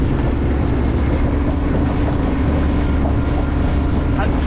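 Sailboat running under its motor at 2400 RPM, a loud steady engine drone blended with rushing wind and water noise, continuous and close with no pauses.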